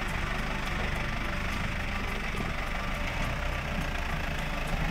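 A forestry machine's diesel engine works steadily while pushing a tree trunk to roll it onto a log pile, a dense continuous rumble with faint regular ticking, loud and close.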